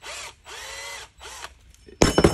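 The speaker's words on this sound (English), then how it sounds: "Drilling directly in the center" A power drill bores into a Ford carburetor metering block in three close whirring bursts, each spinning up and down, followed by a sharper metallic rattle at the end.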